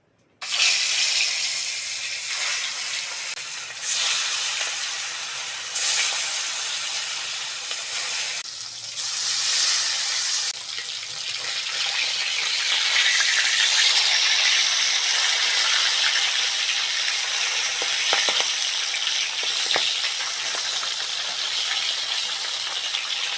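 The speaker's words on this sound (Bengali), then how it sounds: "তেল ভালোভাবে গরম হয়ে গেছে মাছগুলো দিয়ে দেবো" Fish frying in hot oil in a village-style kitchen, a loud continuous hiss and crackle that swells and holds steady throughout, with no talking.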